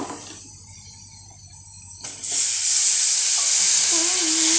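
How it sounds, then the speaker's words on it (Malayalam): Tapioca pieces drop into a hot pan with a soft clatter around two seconds, then a loud, steady sizzle of frying takes over and continues to the end, with no voices. "ഇനി അതിലേക്ക് കപ്പ ഇട്ട് കൊടുക്കാം."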